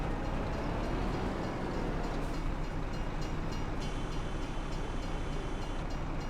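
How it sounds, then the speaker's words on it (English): A train passes in the Farming Simulator 25 video game as a steady, moderately loud rolling rumble with a thin high tone joining near the end. "Oh, it looks like there's a train."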